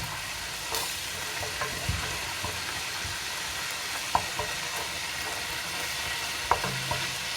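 Garlic sautéing in a pan makes a steady, close sizzle and crackle throughout, broken by a few faint taps and scrapes of a utensil against the pan.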